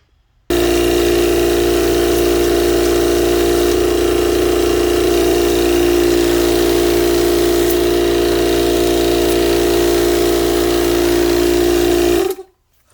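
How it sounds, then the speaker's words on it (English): An electric pump inflates a bicycle inner tube with a loud, steady motor drone and hum that starts abruptly, runs unbroken for about twelve seconds, then cuts off. "So what I like to do is just pump a bit of air into it."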